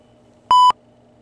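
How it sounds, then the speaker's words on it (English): Phone emitting a single short electronic beep, clean and loud, against a faint low background hum. "please make the phone beep by touching it."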